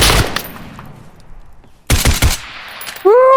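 Gunfire in the VR shooter Geronimo VR: a sharp opening shot, then after a quiet stretch a loud cluster of close shots, ending with a rising whistling tone.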